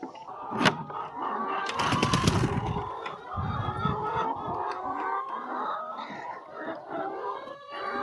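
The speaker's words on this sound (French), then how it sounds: "Allez les poules!" Chickens cluck and murmur continuously nearby, a busy flock chattering with occasional louder calls and some rustling.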